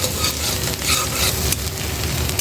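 Vegetables, home-grown on a balcony, sizzle and fry steadily in a pan with a constant dense hiss and occasional stirring scrapes, close and fairly loud, no talk.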